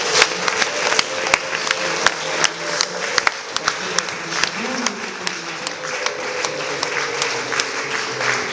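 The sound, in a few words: applause for the preacher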